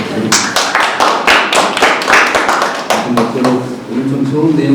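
Applause from a small audience at a district council meeting in Gwangju on managing stray cats, with irregular claps and taps going steadily for about five seconds and voices talking over the end.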